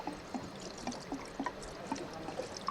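Diesel poured into a car's fuel filter housing, a soft, steady liquid pour with a light trickling texture and faint small clinks throughout, close and quiet.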